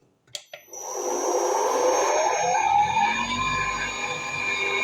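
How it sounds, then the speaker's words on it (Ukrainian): An electric motor driven by a frequency converter at 100 Hz whirs up after a couple of clicks, spinning at nearly 2800 rpm, double its normal speed, settling into a steady, fairly loud high-pitched spin with a constant whine. "Навіть по звуку чути, що двигун крутиться дійсно в два рази швидше."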